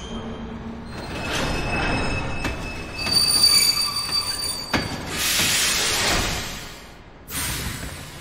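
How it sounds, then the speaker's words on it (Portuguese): A ghost train in Kingdom Hearts 2 pulls in with loud, sustained wheel squeals and metallic screeching, rumbling and rising in bursts as it comes to a halt. "O trem é aquele que era supostamente um trem fantasma"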